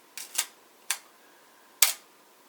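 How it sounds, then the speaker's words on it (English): A Canon AE-1 film camera's shutter test-fired after its light seals were replaced, giving four sharp mechanical clicks, close and distinct, with a double click near the start. "We'll just test fire the shutter."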